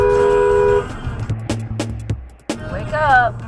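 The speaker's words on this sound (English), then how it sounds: "Honk at him." A car horn sounds in a short toot, followed by a few sharp bumps and road noise inside a moving vehicle, with another brief horn-like tone near the end.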